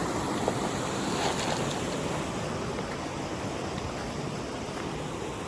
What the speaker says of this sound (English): A little baby waterfall.